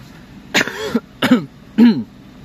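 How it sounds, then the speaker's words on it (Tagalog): Three sharp, close coughs in quick succession, each a rough burst with short pauses between, no talking. "medyo malutong lang yung ubo ko"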